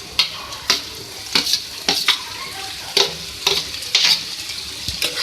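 Chopped vegetables and green onion being mixed in a sizzling pan, a spatula scraping and tapping in an irregular rhythm of about a dozen sharp strokes over a continuous frying hiss, close by.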